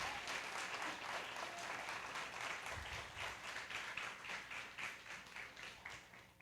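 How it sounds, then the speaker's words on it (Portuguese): A church congregation claps during a Portuguese-language service, a continuous dense round of applause with a slightly pulsing rhythm that slowly tapers toward the end. "Aplauda o nome de Jesus"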